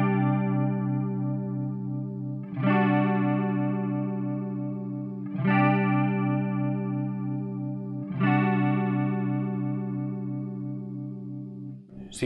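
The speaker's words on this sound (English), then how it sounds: "this is now the other end of the chorus, which will increase the rate and depth" An electric guitar through a Marshall MG100FX amp strums three sustained chords, each swirling with a fast, deep chorus wobble at high rate and depth, loud and close with no talking.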